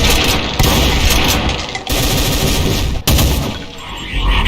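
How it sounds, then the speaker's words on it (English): A Hell Knight variant in a DooM mod fires demon tech shots from its arm cannon in a dense, loud, continuous volley of rapid blasts, broken by two brief pauses. "its most frequent attack is firing demon tech shots until stunned or when it decides to stop."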